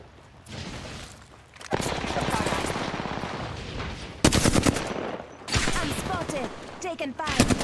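Rapid bursts of automatic gunfire and single shots from a shooter video game, loud and close, coming in clusters with brief pauses, while people talk over the action.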